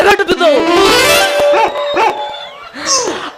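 A few short dog barks and yelps close by, mixed with loud voices talking over them.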